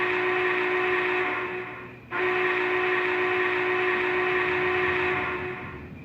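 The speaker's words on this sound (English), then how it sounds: "and then here's the whistle." Sustained chord-like whistle from an MTH HO scale Big Boy #4013 model steam locomotive, sounded loud and close in two long blasts with a brief break between them.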